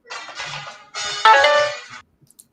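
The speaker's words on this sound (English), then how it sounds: "I've got to turn off my phone before it makes too much noise" A mobile phone ringtone plays two bursts of bright, buzzy electronic melody, loud and close, then cuts off abruptly into near silence.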